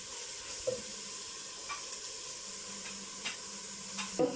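Mushrooms and corn being stirred in a frying pan for shrimp and crab-stick pasta: a soft, steady sizzle with occasional light scrapes of the spatula, fairly quiet throughout.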